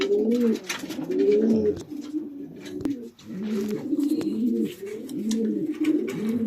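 Racing pigeons coo steadily in a loft, a dense overlapping chorus of soft throaty rolls with a brief dip midway, close and continuous.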